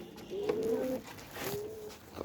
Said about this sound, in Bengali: এই যে কবুতরটা